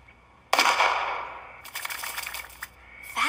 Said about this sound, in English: your seed shotgun will allow a single worker to plant an entire field with one shot